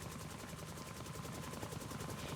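Helicopter in a Minecraft mod, heard as a steady, loud rotor thrum with rhythmic blade chop running throughout, no voices over it.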